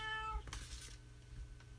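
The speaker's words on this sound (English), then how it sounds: "You guys hear my cat meowing?" A house cat lets out one short, quiet meow alone indoors, over a faint hum and some soft shuffling.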